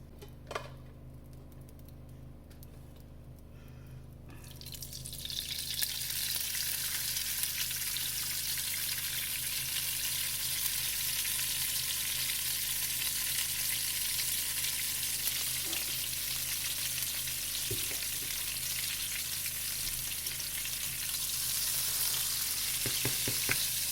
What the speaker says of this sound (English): now I'm going to brown some flour and make my gravy